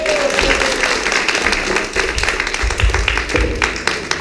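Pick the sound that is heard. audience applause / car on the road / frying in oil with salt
audience applause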